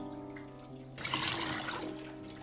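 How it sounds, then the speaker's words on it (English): A jug filling with water in a video game, a sudden rush of running water starting partway through over a steady tonal background hum, then tapering slightly. "Great, now it's full of water."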